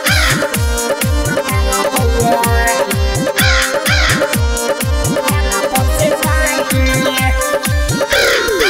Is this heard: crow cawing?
yes